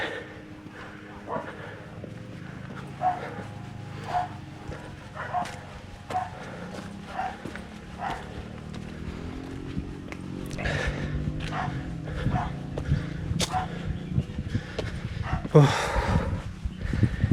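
Dogs barking on a street in Penang, loose, repeated barks at middle distance under steady street noise and passing traffic, growing louder and closer toward the end.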